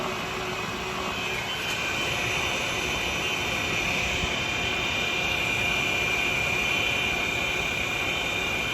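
A car brake lathe cutting a brake rotor runs with a steady, fairly quiet whirring drone and a faint high-pitched whine, unchanging throughout with no talk.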